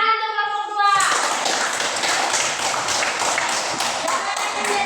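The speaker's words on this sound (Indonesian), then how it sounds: "Tepuk tangan untuk kelompok" Classmates clap for a group after a maths presentation, a dense, steady round of close clapping that starts abruptly after a teacher's voice and continues to the end.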